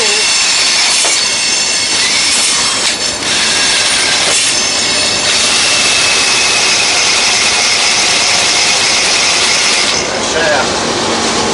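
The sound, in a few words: lawnmower transaxle spinning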